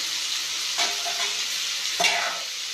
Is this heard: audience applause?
no